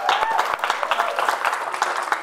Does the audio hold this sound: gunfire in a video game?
no